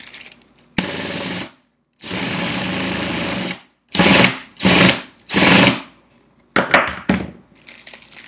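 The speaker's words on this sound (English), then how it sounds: "So I'm just going to drill at an angle right here" A power drill whirs into wood in several bursts, long steady runs then shorter revving pulses, loud and close with brief silences between.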